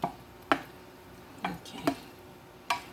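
A pat of butter stirred through food in a pan, with several sharp, separate taps and scrapes of a utensil against the pan over a faint sizzle, close and quiet, with no talking.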